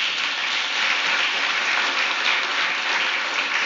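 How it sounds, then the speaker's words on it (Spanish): A church congregation gives steady, even applause, a dense wash of clapping that holds at a constant level throughout. "Pido un aplauso para ellos."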